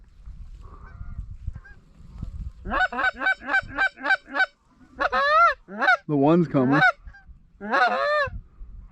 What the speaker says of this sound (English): Another big string of geese coming over under the sun.